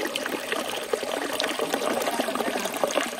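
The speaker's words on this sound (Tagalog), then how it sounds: "Lalagay na po namin sa sako para pigain" Liquid from cooked nami pressed out of a sack runs in a steady trickling, dribbling stream, a continuous wet pouring texture close by with no talking.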